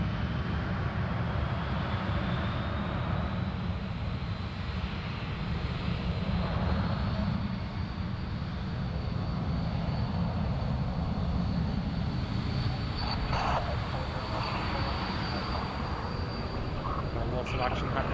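An airliner, the oldest in its fleet, rumbles at Sydney Airport with a steady distant engine drone and a faint rising whine, and voices are heard over it.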